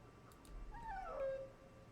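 A dog whimpers in Dragon Age 2, giving one drawn-out, wavering whine that slides downward, close and fairly quiet over a low steady hum.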